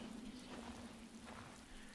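Steady rain falls in the dark woods of a video game, a faint, even hiss of drops with a low tonal hum beneath it.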